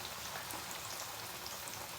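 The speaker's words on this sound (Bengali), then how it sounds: "ভাজতে হবে একটু কড়া করে। তবে ব্রেডটাকে ভেজে নিতে হবে।" Slices of bread fry in a pan of hot butter and white oil, giving a steady, even sizzle that stays constant throughout.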